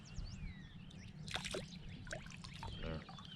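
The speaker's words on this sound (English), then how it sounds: "they said pour Mountain Dew off." Mountain Dew pours onto a bleeding bass, a faint splashing trickle with soft wet squishes and dribbles against low background rumble, no speech.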